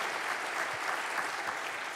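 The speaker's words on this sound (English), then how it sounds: "how about a big round of applause for Chris Camacho?" A studio audience gives a morning live show guest, Chris Camacho, a steady round of applause, dense clapping that holds evenly for the whole stretch with no voices over it.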